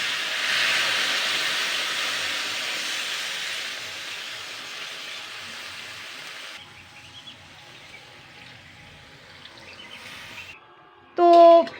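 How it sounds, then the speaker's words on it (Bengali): Water poured into a hot pan of frying pumpkin and rice gives a loud, steady steam hiss for about six seconds, then settles to a softer simmer with faint clatter and a brief sharp knock at the end. "এবার আমি জল দিয়ে দেবো জল দিয়ে দিচ্ছি"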